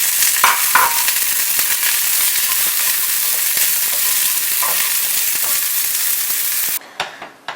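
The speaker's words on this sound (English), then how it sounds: "you put your mushrooms in. Once again, you want to get that really good sizzle" Mushrooms sizzling in olive oil in a hot cast iron pan, a loud dense crackling hiss that runs steadily near the mic, with brief stirring scrapes and a sudden drop-off at the end.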